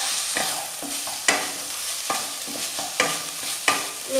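Black pepper powder being stirred into chicken in a pan, with a soft continuous sizzle and a few sharp spoon knocks against the pan at irregular intervals.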